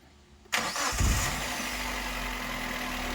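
A Suzuki APV engine cranks and fires up abruptly, a brief starter whir giving way to a loud, steady idle that settles and continues close by, with no talk.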